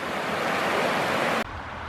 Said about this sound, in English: I have never seen this river flow as fast as she is going.